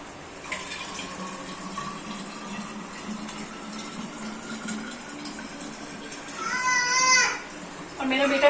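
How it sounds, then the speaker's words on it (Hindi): Water running from a tap into bottles being filled at home, a thin steady stream rising into a louder gurgling rush near the end, with a voice and speech around it. "अभी मुझे ना फ्रिज में रखने के लिए बोतल भरना है"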